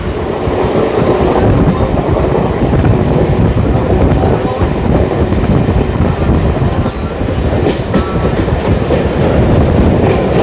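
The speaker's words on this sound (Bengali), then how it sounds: "ঘড়িতে সময় 7টা, রানাঘাট থেকে আমাদের ট্রেন ছাড়লো" A passenger train leaving Ranaghat runs along the rails with a loud, continuous rumble and rattle of the carriages, plus wind buffeting the microphone, heard from on board.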